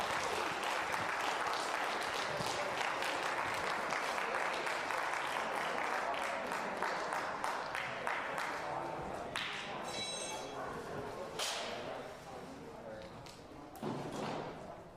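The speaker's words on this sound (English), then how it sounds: "Give them a big round of applause." At a VEX Robotics tournament, an audience breaks into steady applause, a full wash of clapping that fades slightly toward the end, with a few sharp taps and thuds standing out near the close.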